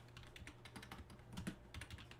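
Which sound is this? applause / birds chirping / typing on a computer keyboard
typing on a computer keyboard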